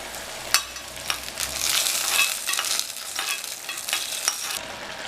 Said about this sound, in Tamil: இந்த வெங்காயம் நல்லா வதங்கட்டும்.